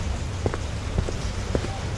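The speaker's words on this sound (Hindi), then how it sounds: "बारिश बहुत तेज हो गई थी" Rain pours down in a steady, dense hiss, with a few heavier drops tapping nearby on a surface.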